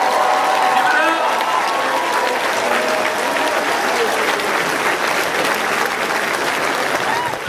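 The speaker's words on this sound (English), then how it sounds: "Let's give these young brothers a round of applause, please." An audience at an African American achievement awards event applauds young students, a loud, sustained round of clapping mixed with crowd cheers and voices that carries on throughout.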